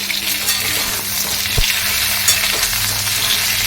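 Potatoes frying in a pan while a home cook prepares a vegetable curry, with steady continuous sizzling from start to finish and an occasional soft clink of a utensil.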